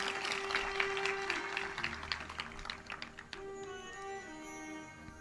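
Applause rises from the audience at a Bhagwat Katha gathering, a lively patter of clapping hands that thins out, with sustained tones from a musical instrument underneath.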